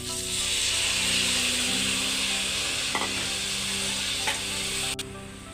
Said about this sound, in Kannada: ಇದು ಫ್ರೈ ಆದ ನಂತರ ತೆಗೆದುಕೊಂಡ ಅಕ್ಕಿಯನ್ನು ಈಗ ಸೇರಿಸ್ತಾ ಇದ್ದೇನೆ.